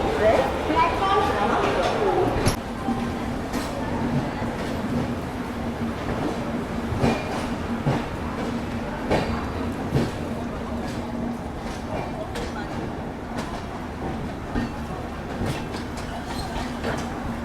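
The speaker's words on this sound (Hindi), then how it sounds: "अपनी कुशीनगर एक्सप्रेस निकल रही है अभी LTT रेलवे स्टेशन से, और सामने ये पवन एक्सप्रेस अराइव हो रही है।" Kushinagar Express pulling out of LTT station in Mumbai, a steady rolling drone with a low hum and regular wheel clacks, while a passenger train arrives alongside and a voice talks over it.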